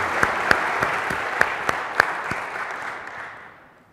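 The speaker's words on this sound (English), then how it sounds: "Please give him another round of applause here" Conference audience applauding a guest speaker at a Microsoft tech event, a dense burst of clapping with a few sharper individual claps, gradually thinning and fading out toward the end.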